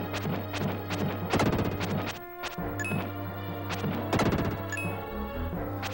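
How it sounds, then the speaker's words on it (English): Loud, repeated smashing and whacking battle effects from the Illusion of Gaia video game, reused from Soul Blazer, sounding as a dense, busy run of hits with two heavier crash bursts and some ringing chime-like tones. "It's the same sound effects from Soul Blazer."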